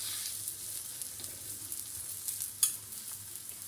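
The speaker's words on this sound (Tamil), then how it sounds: "இப்போ நம்ம இட்டு வச்சு எடுத்து வச்சிருக்கிற பராத்தாவே இதில் நம்ம போட்டுடலாம்" Bottle gourd paratha sizzles in oil on a hot tawa, a steady soft hiss with a faint low hum and one small crackling pop; no speech.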